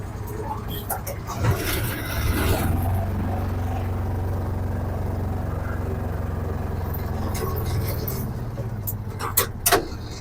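A Japanese diesel multipurpose farm vehicle drives in four-wheel drive with a steady low engine drone throughout, close by, and a few clunks near the end; someone talks over it.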